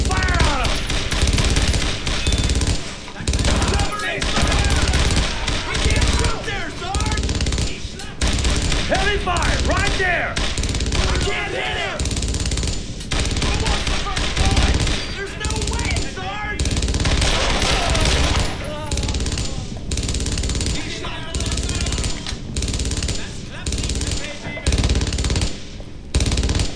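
Machine-gun and rifle fire from the WWII video game Brothers in Arms: Road to Hill 30, dense sustained bursts with booms, loud and continuous under shouted soldier voices across the whole stretch.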